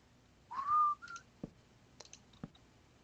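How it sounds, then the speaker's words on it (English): A person whistles a short, bright rising tune up close, followed by a few faint clicks and light knocks in an otherwise quiet room. "I tend to whistle all the time,"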